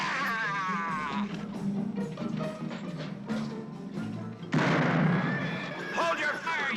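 Gunfire in a western movie scene, sharp shots and booming reports cracking out amid shouting voices, loud and close, with the din swelling toward the end.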